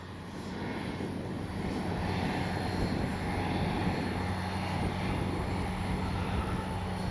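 RC jet aircraft cruising at about half throttle, giving a steady, continuous whooshing engine roar with a faint high whine, moderately distant and unbroken throughout.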